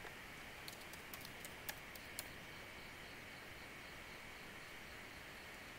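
Typing on a computer keyboard: a short run of scattered key clicks in the first half, faint against a steady hiss, then only background noise, with no talk.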